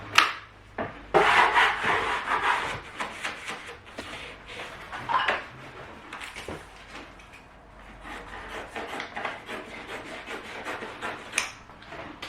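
A spatula rubs and scrapes across a wallpaper mural as it is smoothed onto the wall. Close, dry swishing strokes come in irregular bursts, louder at the start and softer later, with no talk.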